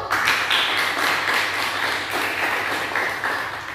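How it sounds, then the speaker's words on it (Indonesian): Students in a physics classroom applaud a presenting group, a lively patter of many hands with a few crisp claps rising out of it, close and steady throughout with no speech over it. "kita beri tepuk tangan dulu untuk kelompok 1"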